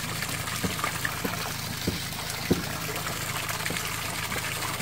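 Water running over a flooded path, a steady trickling and gushing wash with occasional small splashes standing out from it, continuous and fairly close.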